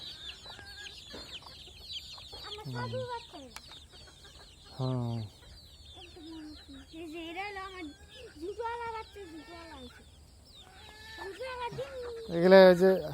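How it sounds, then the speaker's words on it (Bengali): Free-range native deshi chickens cluck and call intermittently at close range, with a louder burst near the end, while a person talks over the birds throughout. "সম্পূর্ণ ছাড়া মুরগি, আমার দেশি মুরগি।"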